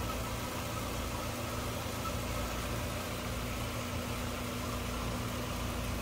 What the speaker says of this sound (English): Engine sounds good,